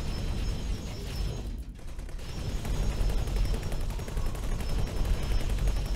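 Ship weapons firing in the X4 space game, a dense continuous rapid rattle of mechanical gunfire, fairly loud and steady throughout with a brief dip partway through.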